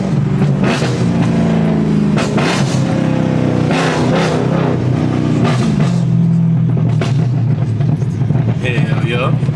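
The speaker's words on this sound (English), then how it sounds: "You gotta bless y'all with the downshifts." A BMW E9x M3 in a parking garage downshifts and revs, its engine roar booming and echoing steadily off concrete while people talk over it throughout.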